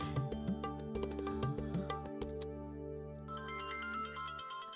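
A phone rings for an incoming call with a steady electronic melody of repeating tones. It is clear and mid-level, with a short change in the pattern midway, and no voices sound over it.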